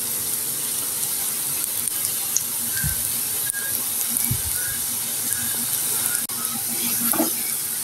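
Potato and flour snacks deep-frying in oil, a steady close sizzle with occasional soft bubbling pops and faint clinks, running continuously with little talk.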